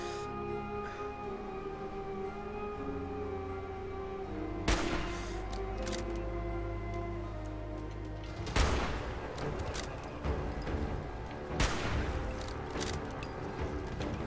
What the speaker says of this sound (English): How about if I shoot you here?